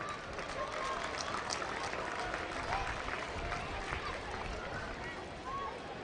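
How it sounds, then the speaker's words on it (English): A large audience applauds warmly for the Governor of Karnataka at the opening of a national sub-junior aquatic championship finals in Rajkot, a dense, steady wash of clapping that lasts throughout with no break. "a huge round of applause"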